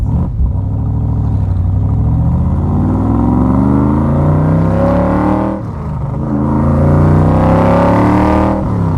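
A Factory Five Cobra with a fuel-injected Roush engine and individual throttles accelerates hard on the road, its loud engine note climbing steadily in pitch, dipping briefly at a gear change, then rising again.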